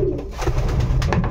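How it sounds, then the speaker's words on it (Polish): Pigeons coo steadily in a loft of show racing pigeons, low soft throaty calls overlapping in a continuous murmur, close and fairly loud with several birds at once. "Także tutaj oryginał od Adama Zenke, jeden z nielicznych obcych gołębi na tym gołębniku"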